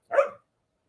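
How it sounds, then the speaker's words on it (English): A single sharp dog bark, close and fairly loud, lasting a fraction of a second and followed by silence. "I know my dog's going nuts"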